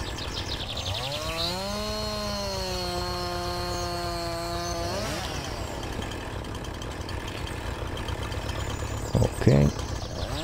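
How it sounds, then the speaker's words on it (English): Husqvarna chainsaw in the Farming Simulator 19 video game, a steady buzzing engine drone that rises in pitch and holds for a few seconds before dropping back to idle, with a short burst of clatter near the end. "We got our old Husqvarna."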